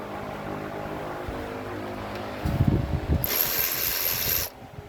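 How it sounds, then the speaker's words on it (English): A Hercules impact ratchet turns an 8mm deep socket on a 3/8 to 1/4 inch reducer while working on the airbox of a 1993 Ford, a short burst of close mechanical clicking followed by a brief high whir. "I am using a Hercules impact socket ratchet, impact ratchet."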